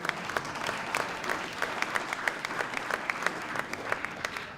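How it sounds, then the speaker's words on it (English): An audience at the CSUS African Peace Awards applauds the award winners, a fairly soft, sustained patter of many hands with individual claps popping out in a loose rhythm. "round of applause for all the Peace Award winners"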